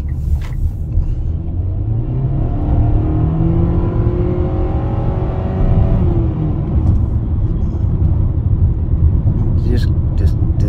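A 2020 Mitsubishi Outlander SEL engine drones steadily from inside the cabin while driving, a low continuous rumble with held revs and a faint rising whine, loud and unbroken, with no talking.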